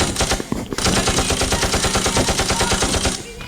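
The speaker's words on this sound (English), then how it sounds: "They are firing from that side." Machine-gun fire effect played during a school annual-function stage play: a rapid, continuous burst of rattling shots lasting about three seconds after a brief shorter burst, loud and steady.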